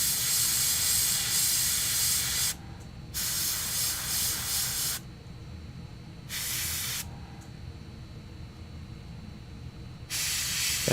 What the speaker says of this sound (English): Do you ever run out of paint while using the airbrush?